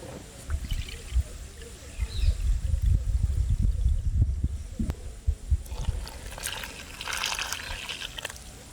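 Water is poured into wheat flour for a green banana-leaf halwa, giving an intermittent trickling and splashing with kitchen handling noise, and a voice is heard briefly in the background.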